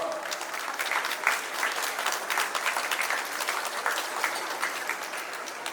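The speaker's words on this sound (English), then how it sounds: "A big round of applause for all of our young performers" Steady, dense clapping from a school audience at an Independence Day celebration in Punjabi Bagh, honoring young student performers, even in level throughout.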